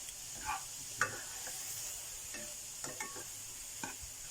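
Fresh shiitake mushrooms are stir-fried in a pot, heard as faint, sparse scrapes and soft clicks of stirring over a quiet hiss.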